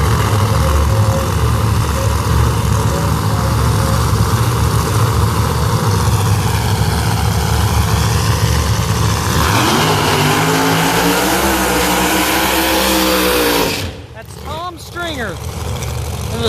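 Outlaw Pro Mod drag race cars at the start line of a dragway, a loud, dense engine roar holding steady, then shifting to rising revs before cutting off abruptly, with a voice talking over it.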